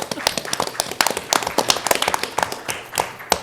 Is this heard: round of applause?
yes